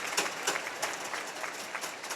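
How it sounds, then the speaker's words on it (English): Crowd at an ice hockey game between Whitley Warriors and Solway Sharks claps steadily, a distant, even patter of applause filling the arena without voices on top. "A nice round of applause from the crowd."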